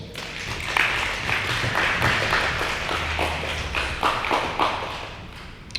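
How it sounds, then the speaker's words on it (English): Audience at a veteran suicide prevention forum applauding panelists, a steady spread of overlapping hand claps with a few sharper nearby claps standing out, fairly close and continuous throughout. "Let's please give our panelists a round of applause."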